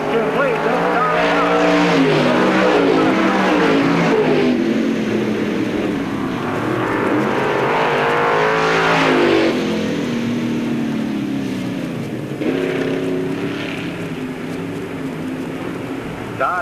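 Race cars roaring around an oval at Knox County Raceway, a loud continuous engine drone rising and falling as cars pass, with a commentator talking over it throughout.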